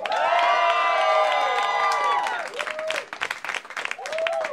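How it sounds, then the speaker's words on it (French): An audience at a French-language comedy show in a Québec venue cheers loudly with high whoops, then breaks into sustained applause and crowd noise that fades and swells again. "Faites-moi du bruit comme si on était 42,"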